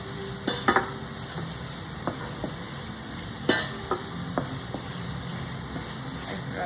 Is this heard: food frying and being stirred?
yes